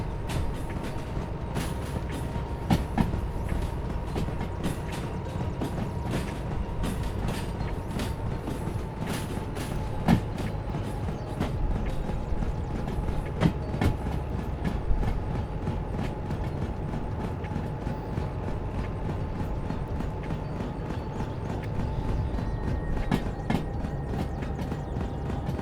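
Freight cars roll over rails in the Derail Valley train sim, giving a steady mechanical rumble broken by repeated clanks and knocks from the wheels and couplings, with no talking.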